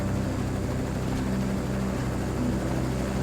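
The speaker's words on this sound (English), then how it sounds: "The helicopter's hovering the shop above us." A helicopter hovers overhead above a shop, its steady, dense rotor and engine drone filling the scene continuously with low throbbing tones.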